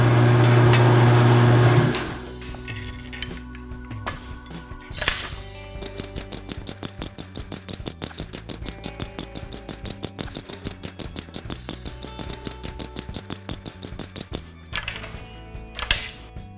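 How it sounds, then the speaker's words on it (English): A formed metal blank has its ends trimmed in a shop, starting with a loud burst of machine noise, then a long run of rapid, evenly spaced clicking cuts, close and steady, with a few sharper knocks near the end. "Now I can trim these ends off so I'll have a perfect circle when I'm done."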